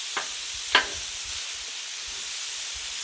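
Crunchwrap filling cooks on a hot griddle, seasoned with salt and garlic, giving a steady, fairly faint sizzle with two brief scraping stirs near the start.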